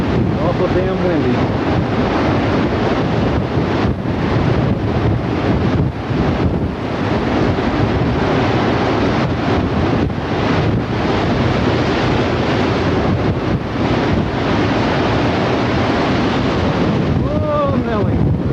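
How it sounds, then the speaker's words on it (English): Strong tornado wind roars continuously into the microphone, a loud, buffeting rush with gusty surges throughout, while a person calls out anxiously over it. "Awful damn windy."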